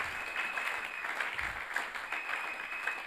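A church congregation breaks into applause, steady and moderately loud for the whole stretch, a dense wash of clapping hands with no voices standing out.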